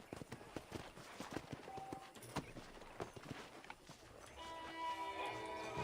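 Horse hooves clip-clop in a steady rhythm in the Red Dead Redemption video game, fairly close and clear, fading toward the end as a sustained game sound rises.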